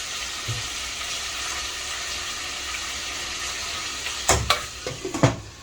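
Organ meats simmer in a covered pot, giving a steady, soft hiss and bubble. A few sharp clinks and knocks come near the end.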